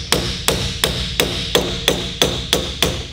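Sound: hammer punching a lock washer on a Harley Davidson WLC gearbox

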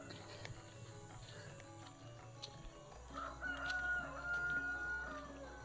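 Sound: rooster crowing and chickens in village

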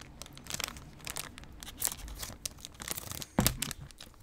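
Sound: plastic snack bag being cut open with scissors

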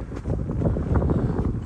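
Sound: wind blowing at a rope park

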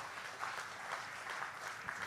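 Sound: applause

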